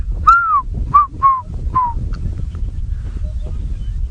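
On a sunrise safari drive, a bird gives a series of about four clear, descending honking calls close by, over low engine-like rumble and outdoor background noise.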